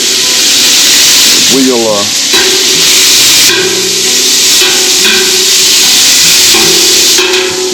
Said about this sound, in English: we are getting the bacon cooked up